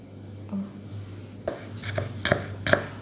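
A knife thinly slicing shallots on a cutting board, a few sharp close taps coming quicker toward the end over quiet room hum.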